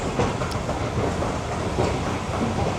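Subway train rumbling loudly and steadily at Jamaica Van Wyck station, a continuous rolling roar with faint rail clatter, close by and alone.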